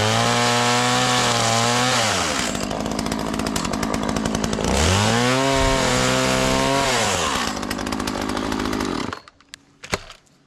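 An old bike's overly wide handlebar being cut down with a powered saw: a loud, continuous high-pitched motor whine that rises and falls as the blade bites, with gritty cutting noise, ending abruptly followed by a few light clinks.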